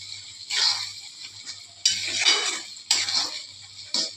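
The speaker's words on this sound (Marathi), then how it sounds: "आता हे मस्तपैकी हलवून घेऊन" Carrot halwa with milk, sugar, dry-fruit powder and cardamom stirred and sautéed in a pan, with bursts of scraping and soft sizzle in three or four strokes, close and clear, with no talking.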